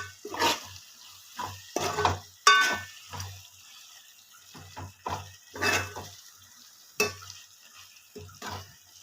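Prawns and tomato curry simmer in a pan over a faint sizzle and a low hum, stirred with a series of irregular scraping, clattering strokes.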